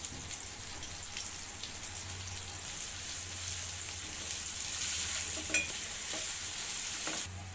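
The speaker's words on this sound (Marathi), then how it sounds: "आता यामध्ये तयार केलेला मिरचीचा ठेचा आणि काही पावडर मसाले मिसळून घेणार आहोत" Chili thecha and powdered spices are stirred into a pan with tomato and a pinch of asafoetida, giving a steady, close sizzle and soft scraping that continue throughout.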